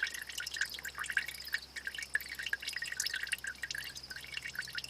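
Old engine oil dripping and trickling out of a 5.3 Firebird's drain after a SeaFoam flush, a faint, steady patter of drops with no voices.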